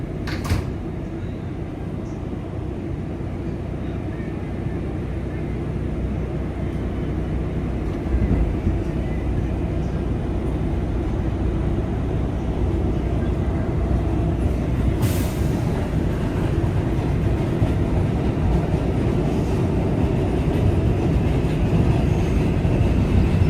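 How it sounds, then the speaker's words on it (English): A Manhattan-bound New York City subway 7 local train runs with a steady, loud rumble and rattle from inside the car, with a clunk near the start and a brief metallic screech midway. "This is a Manhattan-bound 7th local train."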